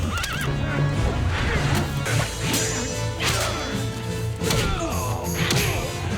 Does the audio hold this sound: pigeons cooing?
no